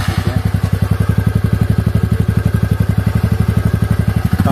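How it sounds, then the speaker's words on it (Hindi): Exhaust of a 2021 TVS Ntorq 125 Race Edition scooter, BS6 variant, idling with a steady, bassy, rapid putter that stays loud and close throughout, with no talk over it. "तो इसका एग्जॉस्ट साउंड सुनते हैं कैसा है।"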